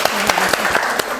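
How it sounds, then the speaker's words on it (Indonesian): Brief burst of classroom applause as pupils clap for a group that has just finished presenting, quick uneven claps close by with some voices underneath. "Tepuk tangan untuk kelompok ini."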